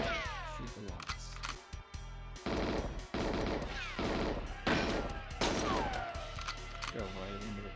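Gunfire in the GoldenEye video game shoots out the lights, loud bursts of rapid shots separated by brief gaps and mixed with other game sounds.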